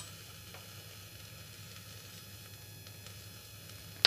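Rice roasting in a pot for vegetable pulao, dry and turning white, gives a soft, steady sizzle and faint crackle close up, with a sharp clatter at the very end.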